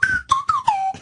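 A slide whistle imitates R2-D2 with four or five quick, close chirps, each gliding downward in pitch, bright and loud with short gaps between.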